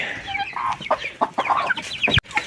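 Chickens clucking close by in a backyard coop, a busy run of short, overlapping clucks and squawks with a brief break near the end.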